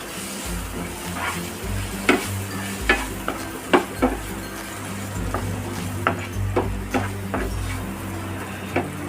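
Close-up stirring of chili powder and red chili sauce masala for Maggi noodles in a sizzling pan, with scraping taps of a spoon against metal recurring every second or so over a low hum.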